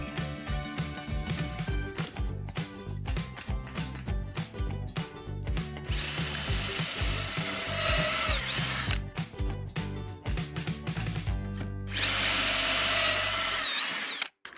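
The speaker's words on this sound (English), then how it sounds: "make pocket holes facing down, making sure they're all facing the same way" A power drill bores pocket holes in wood held in a Kreg pocket hole jig, with short whirring bursts and two longer sustained high-pitched runs between clicks and handling knocks, loud and close.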